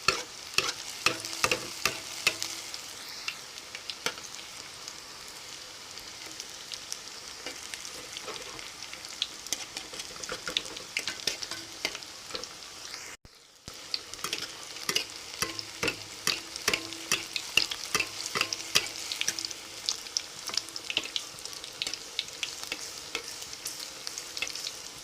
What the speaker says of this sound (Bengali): এখানে আমি 3 পিস বড়া দিয়ে দিয়েছি আর এখন ভালোভাবে ভেজে নেব